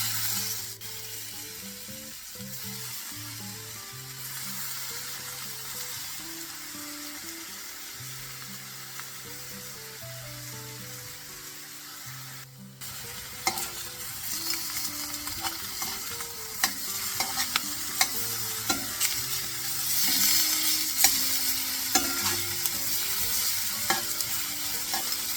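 Sliced bacon fries in a frying pan, first a soft sizzle with a low hum, then louder crackling and popping with repeated scraping and stirring strokes close by.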